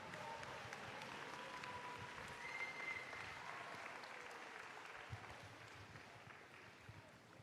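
An audience at a North South Foundation national finals awards ceremony gives sustained, even applause that fills the hall at moderate distance and continues steadily throughout.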